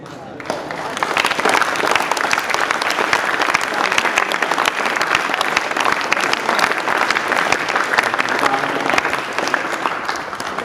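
People in a yoga class clap their hands together as an exercise, producing a dense, continuous burst of many claps that lasts about ten seconds at a steady level.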